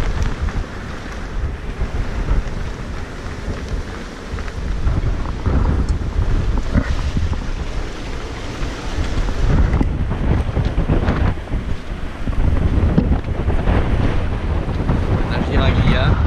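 Strong wind roars across a sailboat rounding Cap Corse from Centuri to Santa Maria, a loud unbroken rush with buffeting gusts and sea wash beneath, close to the microphone, without talk.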